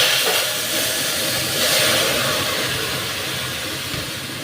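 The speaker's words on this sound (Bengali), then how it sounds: "পুরো ডালটা এখন আমি ঢেলে দিচ্ছি সম্বারে।" Bengali sour raw mango dal poured into hot tempering in the pan, giving a loud, steady broadband sizzle and hiss that fills the whole stretch, swelling slightly midway, with no talking.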